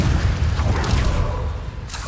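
A Confringo fire spell from Hogwarts Legacy bursts in a loud, booming explosion with a rumbling low roar and a brief whoosh, fading slightly over about two seconds.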